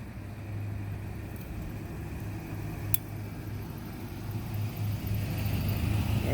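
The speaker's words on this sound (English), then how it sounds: "There goes the neighbor's truck." A neighbor's truck passes nearby, its low engine drone steady and then growing louder toward the end, with a brief sharp click midway.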